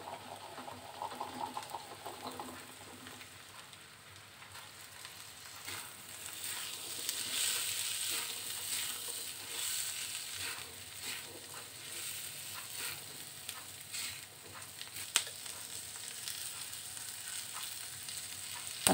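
Leunca berries and oncom fry in a hot pan, giving a steady broadband sizzle with occasional louder crackles and stirring scrapes throughout, close and continuous with no talking.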